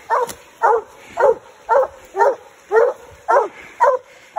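Coon hounds in Tennessee bay at a treed raccoon in the woods, giving about nine evenly spaced, loud barks over a few seconds, with no talking.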